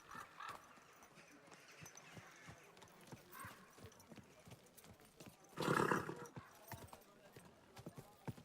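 Horse hooves clip-clop at an easy walk in the medieval game Kingdom Come Deliverance 2, soft and steady, with a louder scuffing burst partway through over faint ambient background.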